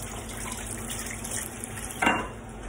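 Water runs from a kitchen tap as hands are quickly rinsed during Easter lunch prep, a steady close splashing hiss with a brief louder gush near the end.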